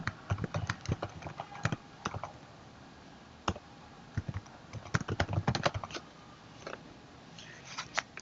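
Computer keyboard keys tapped out in short irregular bursts while entering a project name, close and moderately quiet, with brief pauses between clusters of clicks.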